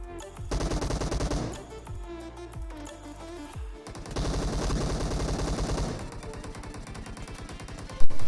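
Automatic weapon fire in the video game PUBG Mobile: rapid loud bursts of machine-gun shots in several clusters, with a sharp louder report at the very end and no talk.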